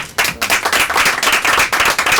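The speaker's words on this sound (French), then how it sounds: "Des applaudissements." Applause at a ceremony: a dense, steady burst of many hands clapping that starts suddenly and holds loud, with no voices.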